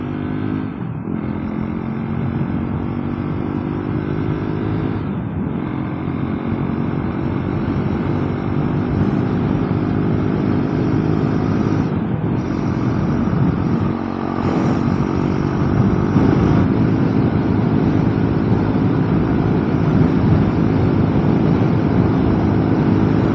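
A motorbike rides along a highway on a Saturday morning, a steady loud engine drone with a rumbling low hum and wind noise, pitch shifting slightly through the ride, with a few brief dips.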